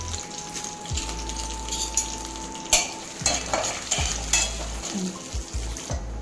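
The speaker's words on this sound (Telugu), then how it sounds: "పోపు వేగిపోయిందండి" A tempering of urad dal, cumin, fenugreek seeds, asafoetida and dried red chilies frying in oil for a cluster beans curry, with a steady crackling sizzle and repeated spoon clinks and scrapes against the pan, close up with no talk.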